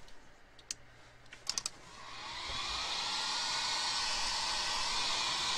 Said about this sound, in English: we'll get my heat gun and